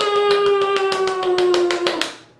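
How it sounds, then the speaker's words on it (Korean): Rhythmic hand clapping from a congregation at a children's worship service, steady and close, running over a sustained musical tone before fading out at the end. "하나님께 영광의 박수!"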